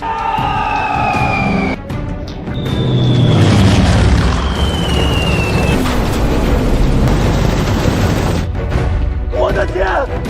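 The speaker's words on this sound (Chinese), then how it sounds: "这不是我们的轰炸机吗？ 为什么会冲着我们投弹？" Bombs dropped by a bomber explode in a loud, sustained rumbling roar, with a descending whistle or siren-like wail above the booming and dense, continuous noise filling the scene.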